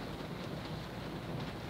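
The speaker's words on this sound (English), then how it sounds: "It just keeps raining today." Steady rain falls outdoors on a December day, a soft continuous hiss of drops with no talk over it.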